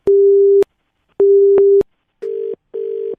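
Telephone busy tone after a caller hangs up: four loud, steady beeps with silent gaps, the first two longer and the last two shorter and slightly softer.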